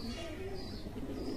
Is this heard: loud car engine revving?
no